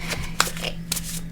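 Tarot card deck being shuffled by hand: a short burst of quick, soft riffling card flutters and taps, close and fairly quiet, with no talking.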